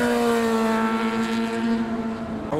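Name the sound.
motorcycle accelerating hard at a car show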